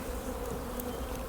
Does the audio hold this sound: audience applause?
no